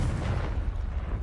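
A Confringo blasting spell explodes in the Hogwarts Legacy video game, a loud, deep, rumbling boom that fills the whole moment with dense crackling blast noise.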